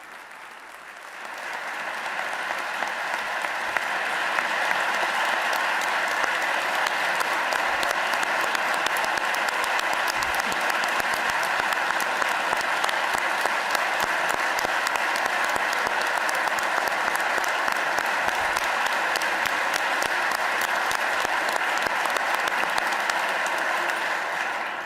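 A room full of people applauds during a Pennsylvania governor's budget address, building quickly into sustained, dense clapping that holds steady and loud for the whole stretch.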